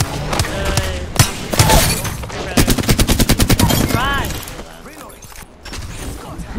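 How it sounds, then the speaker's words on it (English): Rapid automatic gunfire in the battle-royale shooter Apex Legends: bursts of shots close by, then a fast regular string of rounds that fades, with voices talking over parts of it. "What the hell are they still shooting at?"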